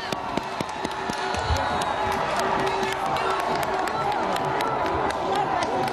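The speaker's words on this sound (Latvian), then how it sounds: "Pūlis kliedz ekstāzē, kad no domas ēkas iznāca Nils Ušakovs un devās aprunāties ar saviem atbalstītājiem." A large outdoor crowd cheers and shouts without a break as Nils Ušakovs leaves the city council building, loud, with scattered claps and voices.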